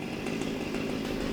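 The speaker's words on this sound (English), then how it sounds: "I'm sure you can hear the chainsaw in the background." A chainsaw drones steadily in the background on a rural homestead, a faint, continuous buzzing engine heard from a distance without any talk.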